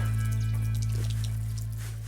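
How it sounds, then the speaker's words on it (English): Water from a well spigot in Nairiri, Africa pouring into a 5-gallon drum, a close, loud steady gush with a resonant hum that slowly fades slightly over a couple of seconds. "people all around Africa can access water from spigots like this one"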